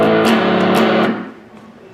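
Electric guitar playing a blues shuffle riff, a short loud strummed chord figure with two quick up strums, ringing briefly before fading over about two seconds.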